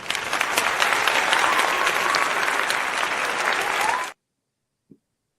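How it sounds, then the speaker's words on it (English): Studio audience applause for a panel show played as a sound effect, a dense steady crowd clapping for about four seconds that cuts off abruptly into silence, followed by one faint click. "Let me go ahead and hit the round of applause for him"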